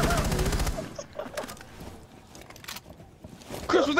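Bursts of automatic gunfire in the military shooter game Squad, a loud rapid volley at the start followed by scattered shots and clatter, with players talking over it.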